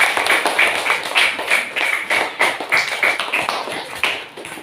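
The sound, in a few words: class applauding a group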